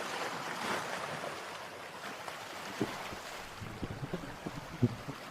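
Sea waves wash steadily onto Tannirbhavi Golden Sand Beach in Mangaluru as a broad, hissing surf with wind buffeting the microphone, joined later by a few faint knocks and clicks.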